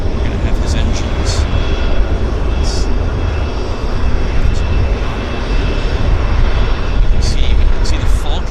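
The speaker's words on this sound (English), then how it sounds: "it's going to pull in right here to clear customs. So we're going to have his engines." A plane taxis in to clear customs at Vancouver Airport, its engines giving a loud, steady jet roar and whine, with voices talking faintly underneath.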